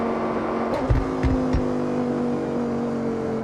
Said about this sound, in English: This is the 2014 Lamborghini Huracán LP 610-4.